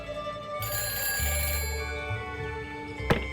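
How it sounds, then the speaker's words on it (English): A telephone rings in a Nancy Drew mystery game, a clear electronic bell trill that holds steadily for a few seconds before a short click, alone with no talking. "I need to answer the phone."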